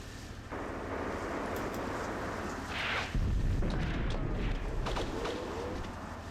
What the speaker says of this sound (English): this is taking so much fire from just machine guns